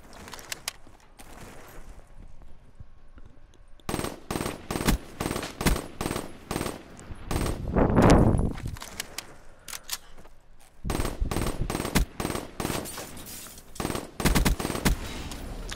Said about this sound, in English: All those bullets I'm shooting,